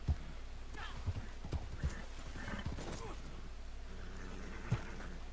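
Horse hooves clip-clop in uneven bursts with an occasional whinny in Red Dead Redemption 2 Online, set against a steady low rumble and scattered game effects.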